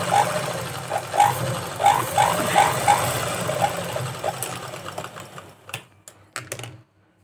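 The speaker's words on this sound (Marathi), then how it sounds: "आणि अशीच शिलाई मारून घ्यायची" Domestic sewing machine stitching a katori blouse, a run of rapid mechanical chatter for about four seconds that then stops, leaving a few sparse clicks and handling knocks before falling silent.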